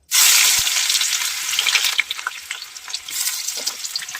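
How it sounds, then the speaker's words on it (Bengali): Thinly sliced onions hit hot oil in a pan with a loud, immediate sizzle that settles into steady crackling frying with small pops, close up and alone. "এখানে তেল গরম হয়ে গেছে, আমি এবার একে একে সব সবজিগুলো ভেজে নেবো একটু ভালো করে"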